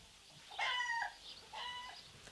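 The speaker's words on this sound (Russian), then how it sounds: "Вот куры." Chickens in a yard give a couple of short clucking calls, fairly faint and slightly distant, with quiet background between them.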